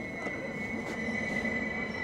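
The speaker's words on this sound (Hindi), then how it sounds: "मेरे पीछे से ट्रेन जा भी चुकी है हमें उतारने के बाद।" Train at a station on the Minsk to Mir rail route, heard as a steady rolling rumble with faint wheel squeal and a constant high whine, moderately distant and continuous with no talk.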